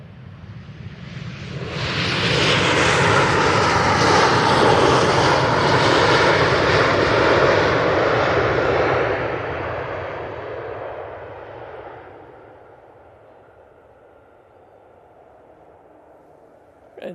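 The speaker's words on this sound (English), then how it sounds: "Really nice landing there from the Ryanair." A Ryanair airliner landing at Manchester Airport, heard from nearby as a broad, loud roar that swells over a few seconds, holds, then fades slowly as the aircraft rolls away.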